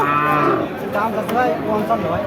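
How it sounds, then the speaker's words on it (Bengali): Jersey cross cow at a cattle market, a loud, close, drawn-out moo lasting over two seconds, followed by fainter lowing with crowd noise and chatter behind it. "জার্সি কুরাস জাতের আট দাঁতের গরু"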